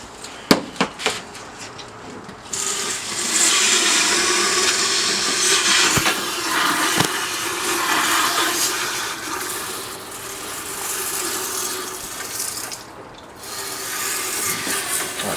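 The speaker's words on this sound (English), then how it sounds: "Now we get the hose and fill out the rest." A steady rush of water streams from a hose topping up a car's wiper fluid reservoir for most of the clip, following a few sharp knocks and clicks at the start.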